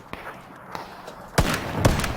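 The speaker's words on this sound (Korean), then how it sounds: "아, 네 총소리구나." Gunfire from the battle-royale video game PUBG in a custom war-mode match: a couple of faint, distant shots early, then two loud, close blasts in quick succession near the end, with no talk over them.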